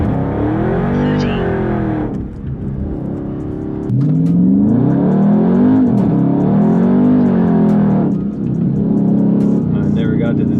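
A Dodge Charger 392 Scat Pack accelerates hard with loud, close engine roar, rising in pitch, dropping back and surging again as traction is lost, with a brief lull between pulls.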